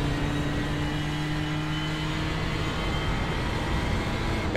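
Race cars roar steadily down the back stretch at Road Atlanta in the iRacing American Tuesday Series, a dense, continuous engine drone with a sustained tone underneath and no break.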